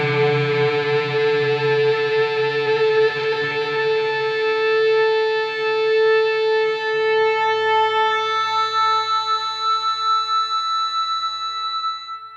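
An electric guitar fitted with a sustainer system rings out long, infinitely sustained notes, passed through an Echo Boy delay that bounces side to side, producing rich harmonic tones that swell and hold without fading and with no talking.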